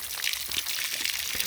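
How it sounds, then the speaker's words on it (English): Water siphoned through an orange hose trickles and pours steadily into a backyard pond pre-filter, a soft continuous near splash and dribble with no talk. "That orange hose is actually siphoning water into the pre-filter."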